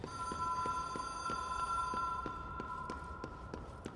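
In the video game Control, an old landline telephone rings with a steady, insistent electronic trill that repeats in an even rhythm, pulsing about every third of a second over a low background hum.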